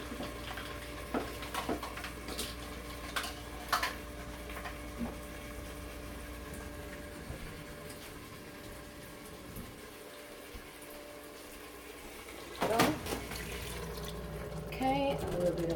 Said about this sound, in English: And now I'm going to put a little bit of water.